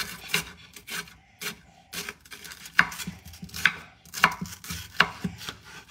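Knife slicing through bitter gourd (ampalaya) on a cutting board in a home kitchen, a quick run of crisp, close chopping strokes with irregular rhythm and no talk.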